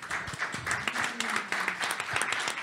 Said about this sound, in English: maybe we could have a round of applause for everyone who did take the time to come in.